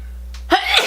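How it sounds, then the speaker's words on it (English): A single short, sharp sneeze bursts out close up after a brief intake of breath. "This powder makes me sneeze."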